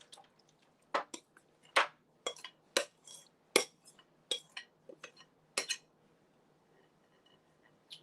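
Corn pudding mixture being spooned into a round pan: a series of about a dozen close, sharp clinks and scrapes of a spoon against the dish, with soft wet plops between them, quiet room otherwise.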